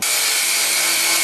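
A large rubber-backed sanding wheel grinds steadily against the welded front fender of a 1960-66 Chevy truck during rust repair, a loud continuous hiss and whine with no break.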